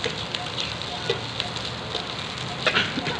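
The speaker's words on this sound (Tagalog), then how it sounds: "Malambot na, ginigisa na oh." Softened jackfruit sautéing in a pan for ginataang langka, a steady crackling sizzle with scattered pops, close and continuous throughout.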